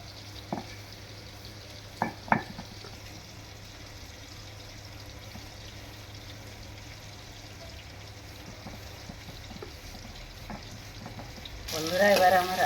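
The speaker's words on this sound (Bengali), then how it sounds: "এবার আমার আমটা ভাজা হয়ে গেছে" Mango pieces fry in a wok for a sweet mango pickle: a quiet, continuous sizzle with a few sharp stirring clicks early on, then a sudden louder burst of sizzling near the end.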